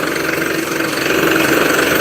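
A borewell drilling machine's engine runs nearby at a groundwater survey site, producing a steady, loud, droning rumble throughout with no voices.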